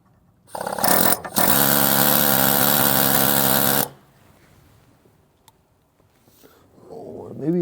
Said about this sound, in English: Now I'm taking the air hammer with the just a pointy tip,